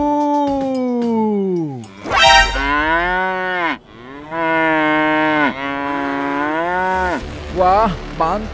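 Cows in the game GTA 5 moo in a run of long, loud, drawn-out calls, one after another with brief gaps, close and clear with no talking over them.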